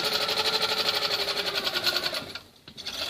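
A Handi Quilter longarm quilting machine stitches with a fast, pulsing mechanical whir, running steadily and then dipping briefly into near quiet before starting up again.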